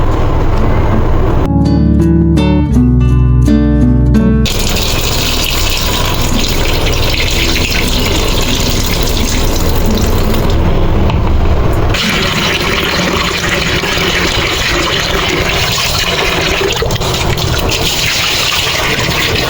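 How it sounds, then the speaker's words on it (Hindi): Soaked lentils (dal) are rinsed in a vessel with water, a loud, steady gush of running and swirling water that continues for the whole stretch with brief changes in tone. "इसको मैं 2-3 पानी से फिर धो लूँगी"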